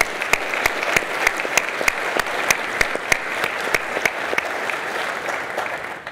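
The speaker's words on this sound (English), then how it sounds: "How about a round of applause for SNA's team for truly knocking this event out of the park once" A large audience at a naval symposium applauds the event's organizing team, a sustained roar of crowd clapping with sharp individual claps standing out at regular intervals, loud and continuous.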